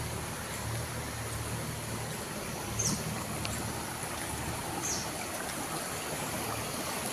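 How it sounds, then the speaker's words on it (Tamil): A small stream of water flows steadily outdoors in nature, its continuous broadband rush and gurgle holding an even level throughout, with no voices. "ஒரு குட்டி நீரோட ஓடிட்டுருக்கு"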